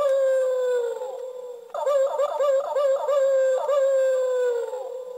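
A Garulu Saber toy from Kamen Rider Kiva plays an electronic wolf howl effect: a long sustained howl, then a wavering stuttered howl phrase that trails off, loud and alone.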